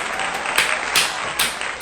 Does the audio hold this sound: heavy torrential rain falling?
no